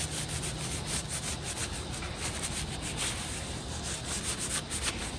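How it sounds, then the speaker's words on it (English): A rag rubs and wipes grease off a brand new Snap-on tool with a blackened finish, giving a steady close scrubbing hiss that runs continuously without pause. "let's wipe this thing out down a little bit"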